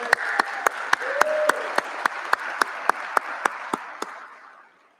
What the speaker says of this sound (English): You may now applause.